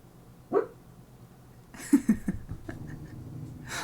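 A dog asleep and dreaming gives a single soft muffled bark, then a few quick faint woofs and huffs a moment later, close by in a quiet room.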